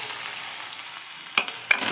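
Green chillies fry in hot oil with cumin seeds, a loud, even, close sizzle and crackle with two brief scraping clatters of a spoon near the end, no voices.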